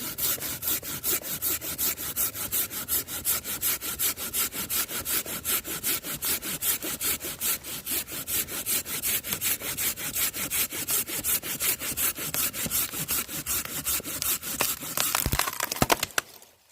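A Silky Bigboy Outback folding saw cuts through a fairly large piece of wood with steady, rapid back-and-forth strokes, close and loud, finishing with a crack as the cut breaks through.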